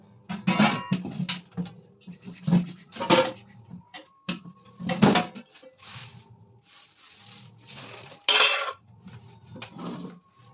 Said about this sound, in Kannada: ಈಗ ಪಾತ್ರೆ ಎಲ್ಲ ತೊಳ್ಕೊಂಡು ನಾನು ತಟ್ಟೆ ಸ್ಟ್ಯಾಂಡ್ಗೆಲ್ಲ ಜೋಡಿಸ್ಕೊತಾ ಇದ್ದೀನಿ